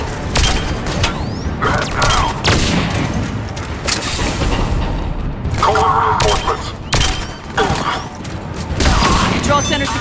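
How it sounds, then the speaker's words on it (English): Cannon fire in the video game Mass Effect 3 booms in repeated heavy blasts amid dense gunfire and mechanical clatter, loud and continuous, with voices talking over the battle. "The cannon fire is clearing the way."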